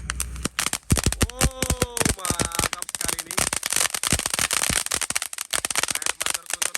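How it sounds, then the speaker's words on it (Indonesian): A large cone-shaped firecracker fountain, lit on a Ramadan night, crackles and pops in dense rapid bursts close by, with a voice exclaiming over the noise. "Selanjutnya kita nyalakan ini mercon gunung atau mercon kerucut terbesar"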